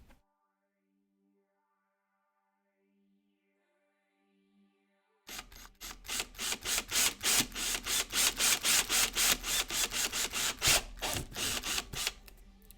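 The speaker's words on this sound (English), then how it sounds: "Nice power drill ASMR as well." A power drill used during a light-building project: a long, steady buzzing run after a quiet opening, with rapid pulsing whir, close and loud, no talk.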